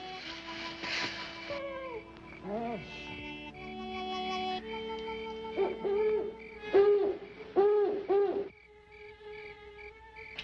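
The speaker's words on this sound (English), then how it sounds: "That's only an old owl." An old owl hoots in a quiet night scene, giving a run of repeated rounded hoots at a moderate distance over a soft, steady tonal background.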